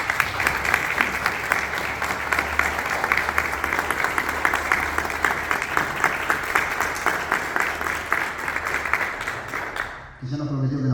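Sustained audience applause at a naming ceremony for an exhibition hall honoring Roberto Juarroz, dense and steady for about ten seconds before cutting off, after which a voice begins speaking.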